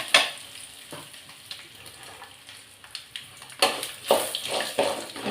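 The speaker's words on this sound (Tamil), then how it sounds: "எண்ணெயிலே நல்லா வதக்குவோம்." Ingredients with coarse salt sautéing in hot oil in a pan, a steady soft sizzle with louder stirring bursts near the end, close by and alone.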